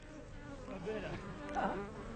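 Bees buzzing around honey and wax: faint, close, wavering insect buzzing with pitch that rises and dips as wings pass by.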